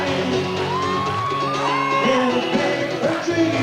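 A large outdoor concert crowd at a park show shouts and whoops continuously, a dense roar of voices with rising yells carrying throughout.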